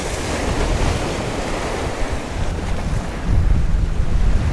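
Strong wind roars across open water near a boat during inshore fishing for speckled trout, a steady gusting rush with broadband microphone buffeting and some wave wash, loud and continuous throughout, growing stronger near the end.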